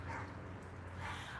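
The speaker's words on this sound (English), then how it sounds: "You're barking at nothing." A dog barks indoors, two soft, muffled yips spaced about a second apart, faint and fairly distant.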